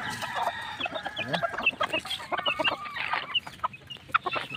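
A white Kelso chick peeps and chirps at feeding time among louder clucking and a crowing rooster nearby, a busy, overlapping barnyard chorus.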